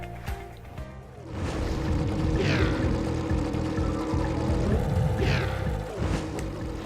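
A hovercraft engine in Jak and Daxter, a steady droning whir with rushing, watery swells and two brief rising sweeps, loud and continuous throughout.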